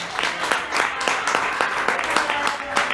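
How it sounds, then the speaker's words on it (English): Comedy roast battle crowd giving a round of applause, sharp overlapping claps in an uneven rhythm with a steady crowd roar underneath, fairly loud and close. "If you love Tera's stuff, give her a big round of applause and scream and yell"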